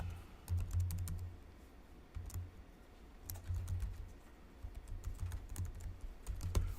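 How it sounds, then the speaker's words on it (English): Steady typing on a computer keyboard, quiet and close, with irregular clusters of key clicks and brief pauses, no talking. "Now I'm just going to keep typing, and I'm going to type."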